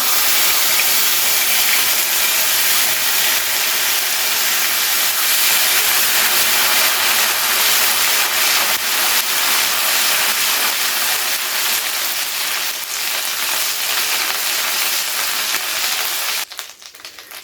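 Ginger paste sizzles in hot oil with tempering spices for a home-style vegetarian curry: a loud, steady, close frying hiss that holds unbroken for the whole stretch and shifts abruptly near the end.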